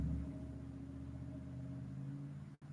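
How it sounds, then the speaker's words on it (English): A neighbor's loud truck idles and revs nearby with a steady low engine rumble, holding for about two and a half seconds before a brief dropout. "I don't know if y'all can hear my gearhead neighbors, but God, that truck is loud."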